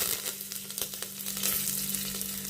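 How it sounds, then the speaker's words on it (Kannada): Mustard seeds, cumin and curry leaves sizzling in hot oil, a loud close crackle of rapid popping bursts over a constant frying hiss and a low steady hum, with no speech. "ಆಯಿಲ್ ಬಿಸಿ ಆಗಿದೆ, ಸಾಸಿವೆ ಹಾಕೊಳ್ಳೋಣ. ಜೀರಿಗೆ ಹಾಕೋತಾ ಇದ್ದೀನಿ, ಮತ್ತೆ ಕರಿಬೇವು."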